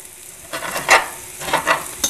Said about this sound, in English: I hope you can hear the sizzle because it sounds terrific.